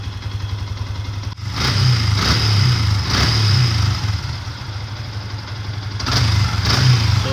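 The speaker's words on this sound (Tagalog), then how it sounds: "So ayan, ganito yung idle niya guys." A Yamaha Sniper 150 motorcycle fitted with an EASTAR SPEED plug-and-play ECU idles up close with a steady, slightly lumpy engine note that swells in a few gentle throttle blips.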